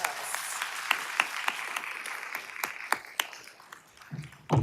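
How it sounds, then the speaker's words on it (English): Applause from an audience at a Franchise Tax Board retirement send-off, a sparse, moderately distant patter of claps with a few sharper individual hits, tapering before a brief louder noise at the end. "So let's give her even bigger round of applause, everybody."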